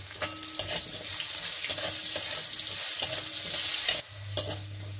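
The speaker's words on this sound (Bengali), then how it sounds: "আমি তেলটা আমার গরম হয়েছে, আমি এখন আলুটা ভেজে নিই।" Potatoes fry in hot oil in a home kitchen for a jackfruit curry, giving a steady close sizzle with brief stirring clatters and a low hum, and no talking.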